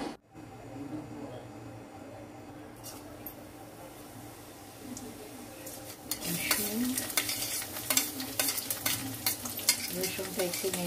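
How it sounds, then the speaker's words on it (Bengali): Garlic and ginger frying in a pan while being stirred, a steady sizzle with scraping and clinking of a utensil that grows louder and busier partway through, with no talking. "রসুনটা একটু নেড়ে দেবো, আদা, তারপর দেবো কাঁচা লঙ্কা"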